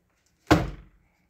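A single dull thunk as a door swings and bumps against a rubber fish-shaped stopper fitted on the door, close and brief in a quiet room.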